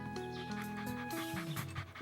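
A small dog pants in quick, steady breaths, close and fairly soft, with faint background tones around it.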